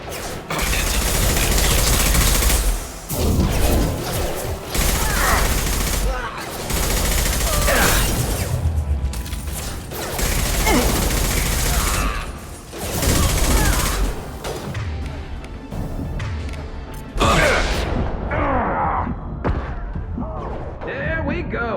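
Loud, sustained rifle fire in the video game Mass Effect 2, with long bursts broken by brief pauses and voices over the shooting.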